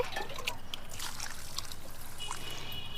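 Water is poured onto a freshly planted mango sapling in soil mixed with dry leaves, a soft continuous trickle and splash heard faintly and close.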